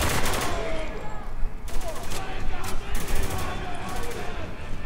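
Heavy firefight in the shooter game Spec Ops: The Line, with dense overlapping bursts of automatic fire and sharp cracks throughout, loud and continuous over a rumbling background.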